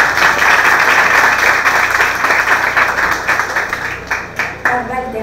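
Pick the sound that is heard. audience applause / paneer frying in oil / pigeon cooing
audience applause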